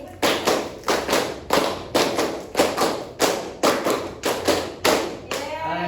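A classroom of students claps together in a clapping game, three rounds of five quick claps in a steady pattern, loud and near, with faint voices at the very end.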